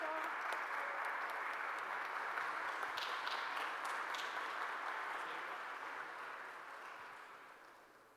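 A conference audience applauds to welcome speakers to a talk on rights and urban development, a faint, distant wash of clapping that stays even and then fades out toward the end.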